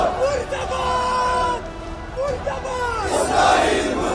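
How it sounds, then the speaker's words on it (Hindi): A protest crowd in Srinagar chants slogans against America and Israel, a loud massed roar of rising and falling shouted voices that fills the street. "प्रदर्शनकारियों ने जुलूस निकाला, साथ ही अमेरिका इजराइल के खिलाफ जोरदार नारेबाजी की।"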